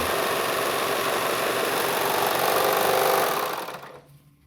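Baby Lock Enspire EX sewing machine stitching a rolled hem, a steady dense mechanical whir running continuously at close range before slowing and fading out near the end.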